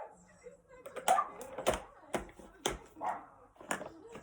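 Dogs barking in the background, with several sharp yips and barks at uneven intervals and a faint whimper, mixed in with nearby talking.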